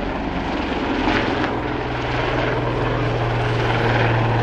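A Royal Navy Lynx HAS3 helicopter of 815 Squadron hovering at the East Fortune Airshow in 2009, its loud, steady rotor and turbine drone holding a constant low hum throughout.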